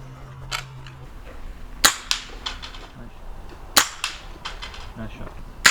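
Air rifles fire at an outdoor field target championship in Oregon, giving sharp, dry cracks spaced a second or two apart, some followed by faint metallic pings, with people talking quietly in the background.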